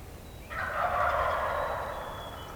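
Wild turkey longbeards gobble from the roost, one loud rolling gobble that swells and trails off, with no voices.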